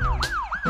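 An ambulance siren gives a brief, close wail, its pitch swooping down and back up twice in quick succession.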